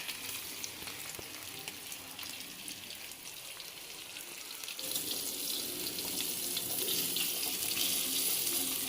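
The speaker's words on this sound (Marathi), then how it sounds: "एक साईड मस्तपैकी फ्राय झाली दुसरी साईड फ्राय करूया" Jitada fish fried in a hot pan, a steady close sizzle and crackle that swells noticeably louder and brighter about halfway through, with no voices.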